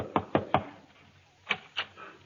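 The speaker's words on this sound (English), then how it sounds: "there was a knock at the door" Knocking at a door in an old radio comedy play, with three sharp, evenly spaced raps, a pause, then two more, close and crisp with nothing else heard.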